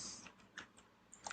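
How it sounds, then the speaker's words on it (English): Computer keyboard keys tapped in a short, irregular burst of clicks, close and fairly quiet, with no voices. "I'm just typing randomly"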